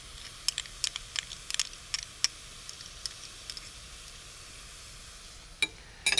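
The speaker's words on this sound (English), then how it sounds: "I have a large nonstick skillet here over medium heat, and I'll just add in the meat, along with 1 teaspoon of minced garlic" Ground meat and minced garlic sizzle in a nonstick skillet over medium heat, a soft steady frying hiss dotted with sharp pops and spits, ending with a brief clatter.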